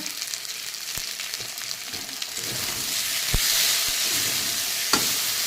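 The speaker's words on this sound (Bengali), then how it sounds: "একদম ভাজা ভাজা করে নেবো বেগুন কয়টাকে।" Eggplant pieces fry in a pan with salt and turmeric, a steady close sizzle with occasional sharp pops and spatula taps, swelling slightly louder midway.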